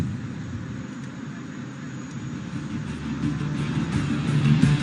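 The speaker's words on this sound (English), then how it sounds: "watch as he inverts his aircraft and pulls through for a split S, turning her around in no time" An LCA Tejas fighter jet flying a display at the Dubai Airshow, heard as a steady, distant jet roar with a low rumble that builds slightly toward the end.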